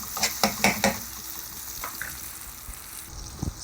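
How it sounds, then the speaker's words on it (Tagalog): Onions and garlic sautéing in a pan for chicken patola with miswa, with a few quick stirring scrapes and clatters at the start over a low steady sizzle, then a quieter hiss and a couple of late knocks. "dinisa natin yung sibuyas sa bawang"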